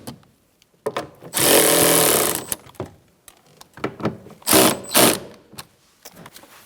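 Two bursts of a battery-powered driver whirring as it tightens side mirror bolts on a 2004-2009 Mazda 3, one long run of about a second then a shorter pair, with light clicks and handling noises between.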